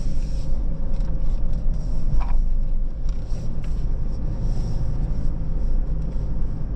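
A 2025 Toyota Prado 250 GX crawls off-road on a loose surface, its cabin filled with a heavy, continuous low rumble and scraping as the wheels slip under traction control, with faint clicks on top.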